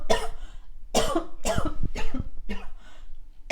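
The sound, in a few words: cough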